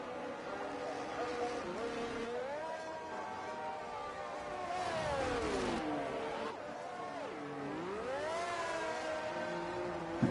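A Williams Formula 1 car in a racing video game winds up on a flying lap at Monza, Italy, its engine whining steadily and sweeping up and down through gear changes, with faint voice chatter underneath.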